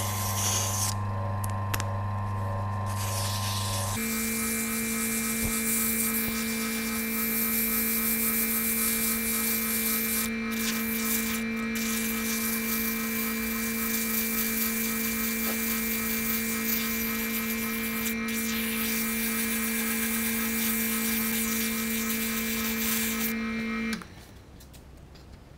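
Zebra wood pen blank being sanded at 150 grit on a spinning lathe, a steady whirring drone with a continuous rough rubbing hiss, running alone for a long stretch before the motor note drops at the end.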